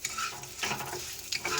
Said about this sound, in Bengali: এই যে ঘি দিয়ে ভাজছি